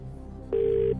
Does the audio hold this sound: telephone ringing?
yes